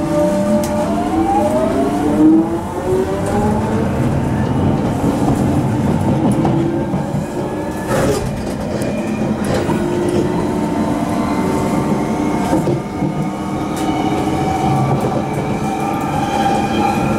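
A London Underground train running on its tracks between Stanmore and Stratford, a loud continuous rumble with rhythmic clicks and squeals of wheels on rail as the carriage travels, no talking.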